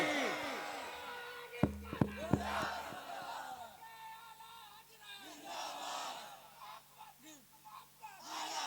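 A crowd at a religious speech gathering roars back the takbir slogan in loud, overlapping chanted shouts, with a few sharp claps or knocks early on before the voices tail off into scattered calls.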